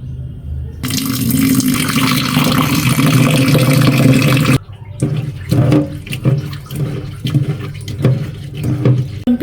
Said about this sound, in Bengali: এখন এই আলুগুলো ধুয়ে নিব